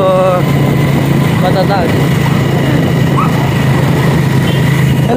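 A motorcycle engine drones steadily during a ride on a road in Bulacan, Philippines, with wind rush and someone talking over the loud, constant hum.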